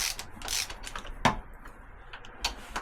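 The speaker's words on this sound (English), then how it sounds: "I'm going to be using a ratchet along with an Allen key on the end." A ratchet fitted with an Allen key loosens the fork clamp bolts on a Tiger 800 motorcycle, giving a few faint, close clicks and mechanical ticks spaced unevenly across a quiet background.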